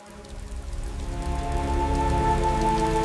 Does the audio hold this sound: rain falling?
yes